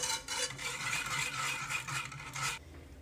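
A Nutella cream dessert mixture of starch, flan powder, cocoa and milk being stirred in a pot, giving a steady close scraping and swishing for about two and a half seconds before stopping.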